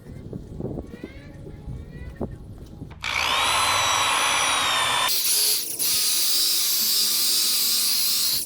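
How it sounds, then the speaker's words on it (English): A power buffer polishing worn-out old car paint whines in a loud, sustained high-pitched tone, starting after some handling noises, briefly shifting pitch midway and then running on steadily. "We're going to give it a buffing, see if that helps"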